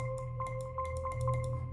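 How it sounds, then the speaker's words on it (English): A mallet one-shot from a sample kit in an FL Studio beat strikes repeatedly in a steady rhythm, clear bright tones over a soft low bed, with no voice. "Next, I added this other mallet from another one-shot kit, which sounds like this."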